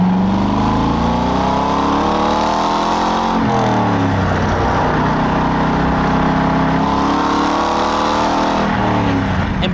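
A 2002 Chevrolet Corvette C5 Z06 with its cam-in-block overhead-valve V8 drones loudly and steadily on the move, rising and falling through the revs with a brief lift and pickup midway.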